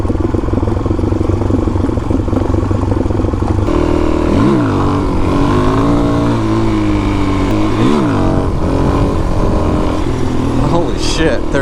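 A Suzuki DRZ400 motorcycle engine revs hard and pulls up through the gears into third, pitch climbing and dropping at each shift, with a second engine running throughout and a voice talking over it.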